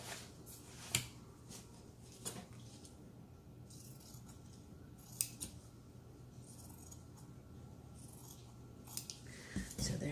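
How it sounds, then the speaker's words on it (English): Scissors cut paper down for a junk journal cover, producing a handful of quiet, spaced-out snips over a soft background hush, with no voices. "I'm going to cut it down"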